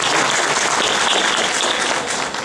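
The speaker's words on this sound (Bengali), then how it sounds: "আমি মনে করি সবাই তালি দেয়" A crowd applauds loudly and evenly at a musical night concert, a close, dense wash of clapping that holds steady and eases slightly at the end.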